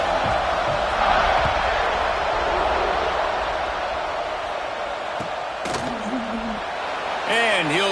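A college football stadium crowd cheers after a scoring drive, a broad, sustained roar filling the space beneath a play-by-play announcer's voice, with a few sharp thuds and whistles rising near the end.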